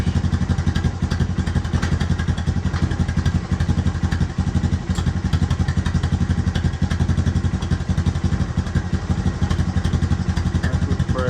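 A Honda Recon TRX250TM ATV engine idles steadily while being shifted into reverse after a clutch replacement, a close, loud, rapid mechanical putter with faint clatter running continuously throughout.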